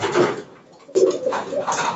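Young squab pigeons coo in two soft, low bursts close by, with a short pause between them.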